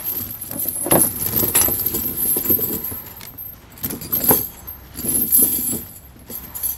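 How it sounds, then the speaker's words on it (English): Metal Glacier tire chains jangle and clink as they are handled and draped over the tires of a 2020 Jeep Wrangler, in close, loud bursts of rattling links with short pauses. "Just grab it by the middle and then drape it over your tires."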